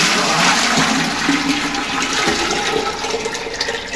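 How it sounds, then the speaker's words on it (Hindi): Water pours steadily into a water cooler, a continuous rushing and splashing that holds at the same level for several seconds, close and loud, with no talking. "अब इसको डालते हैं वहां कूलर में"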